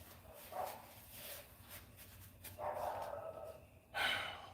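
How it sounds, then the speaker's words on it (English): A dog barking at its owner arriving, a few muffled barks and snorts spaced out over a couple of seconds, somewhat distant with faint background noise. "the owner pulled up and went to barking"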